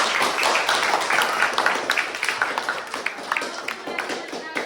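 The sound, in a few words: class applauding group 1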